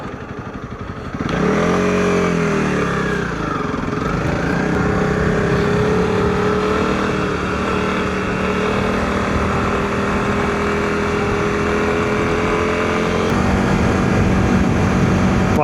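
A Honda CRF300L Rally motorcycle pulls away after a quiet start, its single-cylinder engine revving up through the gears, then settling into a loud, steady riding drone with wind noise that continues to the end.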